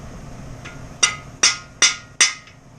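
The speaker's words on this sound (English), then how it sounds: "I'm going to need a bigger hammer." Four sharp metallic hammer strikes drive a cam bearing into a 6.0 LQ4 LS engine block, evenly spaced about half a second apart, close and ringing, with a faint lighter tap before them.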